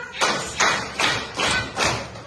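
A group of children in a classroom claps together in five evenly spaced, fairly soft beats, each a short broadband slap, with faint room noise between.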